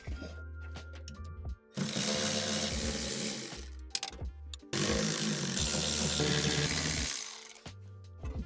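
Power tool, likely a ratchet or impact driver, removing nuts and bolts from a Range Rover L322's Harman Kardon amplifier: two loud, sustained whirring bursts of several seconds each, separated by short pauses with quieter mechanical clicks.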